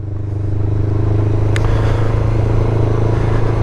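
A motorcycle rides steadily along a road just off gravel, its engine producing a loud, continuous drone close by with no speech.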